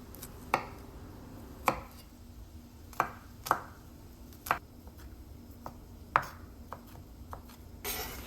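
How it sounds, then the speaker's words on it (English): Knife chopping through garlic cloves on a cutting board, quiet, irregular taps spaced about a second apart, with faint kitchen background and pan sizzle. "let's mince 3 cloves of garlic"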